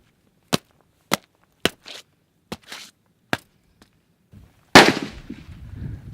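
Gunshots ring out at an outdoor gun range backing onto the Rio Grande in Brownsville, Texas: five sharp, separate cracks spaced about half a second apart, then a louder, closer blast followed by rumbling noise.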